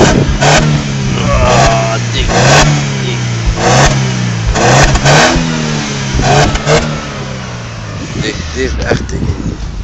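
A car engine revving hard again and again in loud bursts, close by, with people talking over the roar.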